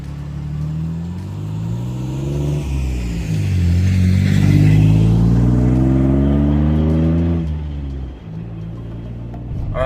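Inside a Jeep fitted with a PowerStop big brake kit, the engine pulls hard through the gears as the vehicle accelerates. Its pitch climbs and drops at each shift over a steady road rumble, loud and close.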